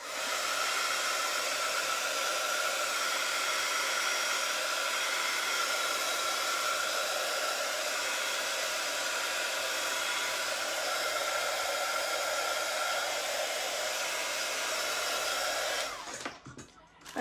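A hair dryer blows steadily and loudly on a freshly worked Alice-themed journal page, a continuous whooshing roar held for about sixteen seconds before it cuts off abruptly near the end.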